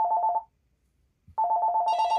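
A telephone rings in short warbling bursts, stops for about a second, then rings again as a second higher electronic tone joins in, loud and close.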